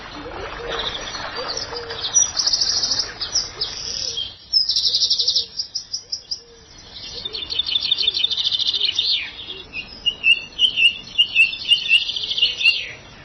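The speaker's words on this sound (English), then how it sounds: "the sheer amount of bird song is just absolutely phenomenal" Garden birds sing at Highgrove, bright chirps and warbled phrases tumbling in bursts from several birds, fairly close, against a quiet outdoor background.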